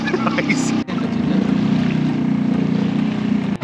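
Steady engine drone of a motorboat running close by on the sea off Worli, Mumbai, constant and loud, with wind and water noise and short dropouts.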